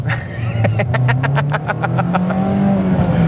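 A 2025 Mazda MX-5 Miata's engine flares loudly after a missed shift, a steady close-up drone with a quick burst of rapid, evenly spaced pulses before the revs settle back into a smooth rising tone.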